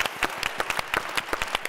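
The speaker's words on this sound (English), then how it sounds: "Y'all clap it up." An audience at a talk on veterans in the civilian workplace breaks into applause, a dense patter of many hands clapping at a steady moderate level through the whole moment, with no voices on top.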